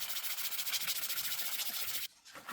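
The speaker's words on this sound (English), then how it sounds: "I hand sand the spoon with a sanding sponge, refining the surface and softening the edges." A wooden spoon is hand sanded with a sanding sponge: a steady, close, dry rubbing hiss with a soft back-and-forth pulse runs for about two seconds, then drops away before a brief, quieter stroke resumes.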